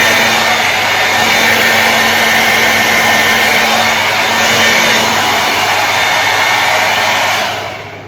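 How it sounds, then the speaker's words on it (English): A hair dryer blows steadily and loudly with a constant whooshing roar and faint motor hum, then cuts off near the end. "blast it with a hair dryer"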